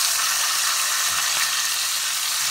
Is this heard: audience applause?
no